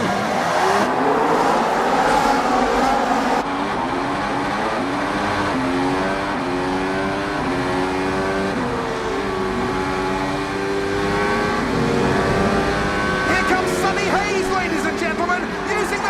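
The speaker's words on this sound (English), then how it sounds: "Let's listen to a clip from the Silverstone race in the film, just as the drivers are taking off." Formula 1 cars leave the grid at Silverstone in film sound: a dense pack of high-pitched engines revs and climbs through gears together, loud and sustained, with overlapping pitch sweeps as the cars pull away.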